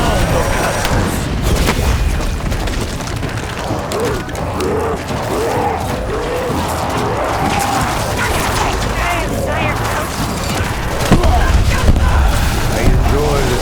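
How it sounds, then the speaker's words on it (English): Cannon fire in a video game, with continuous heavy booms and mechanical clatter forming a dense, loud battle din that swells slightly toward the end. "Death follows the sound of cannons."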